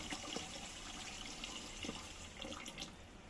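Water runs steadily into a pot of rice in a home kitchen, a close, continuous splashing pour with small gurgles throughout and no talk.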